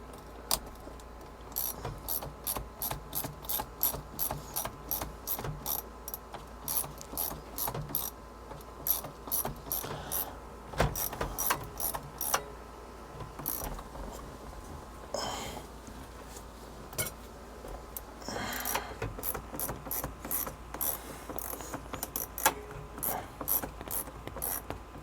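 A ratchet wrench clicks in rapid bursts while removing a bolt under a 1965 Ford Mustang, quick metallic ratcheting runs separated by short pauses and occasional clanks, fairly quiet and close.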